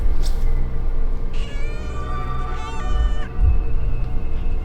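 A cat meows twice in a barn at night, drawn-out and wavering, over a steady low rumble of background noise; no one speaks.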